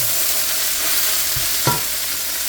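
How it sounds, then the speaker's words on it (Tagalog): Kangkong sizzles steadily in a hot pan with browned garlic, a constant loud frying hiss broken by a couple of soft stirring knocks. "gigisa lang natin ang kangkong"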